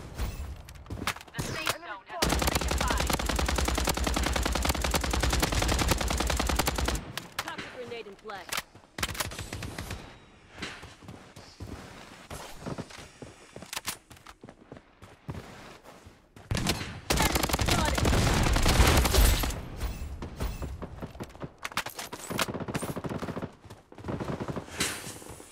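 Bursts of automatic gunfire in the shooter game Blood Strike, long rattling volleys broken by pauses and scattered single shots, loud and close, with players talking in the background.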